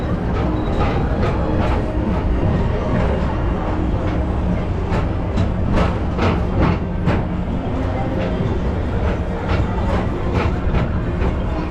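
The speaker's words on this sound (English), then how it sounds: "Welcome aboard the People Mover, presented by Enterprise." Tomorrowland Transit Authority PeopleMover ride vehicle gliding along its track, a steady loud rumble with rhythmic clicks and clacks passing beneath, continuous throughout, with faint voices in the background.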